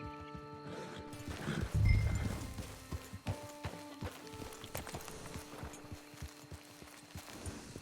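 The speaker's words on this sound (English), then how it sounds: "It's your horse." Horse hooves clip-clop in the video game Red Dead Online, a run of close, steady hoof knocks with a louder thump early on and faint game ambience underneath.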